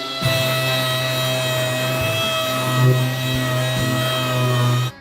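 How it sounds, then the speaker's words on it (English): Sanding a stripped GMC Jimmy truck door panel with a power tool gives a steady, loud, close whine with a droning hum that runs continuously from start to finish, with no voices. "I'm sanding to find my low spots."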